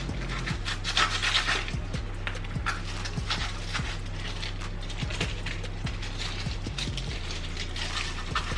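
Sandpaper scuffs the rubbery foam surface of a Croc shoe in a run of quick, rough back-and-forth rasping strokes, steady and close, with a low hum underneath.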